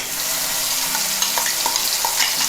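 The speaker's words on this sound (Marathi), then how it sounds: "आपण हे वाटण तेलात परतवून घेणार आहोत" Onion-tomato masala paste fries in hot oil with a dense, steady sizzle, near and loud, with small stirring scrapes in between.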